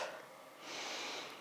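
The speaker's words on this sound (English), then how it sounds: "You actually want to be breathing out quicker than you're breathing in." A person doing a breathing exercise, one long breath of broadband airy rush, with the exhale noticeably quicker than the inhale, close and alone without talk.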